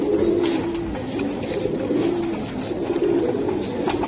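Pigeons coo repeatedly in low, throaty rolling calls, several birds close by, with a soft rustle of background noise.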